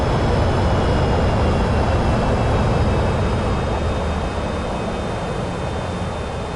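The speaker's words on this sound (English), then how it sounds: "Wow, listen to that engine." A video-game airplane engine in Microsoft Flight Simulator 2024 drones loudly and steadily throughout, a dense continuous roar with a faint high whine, no speech.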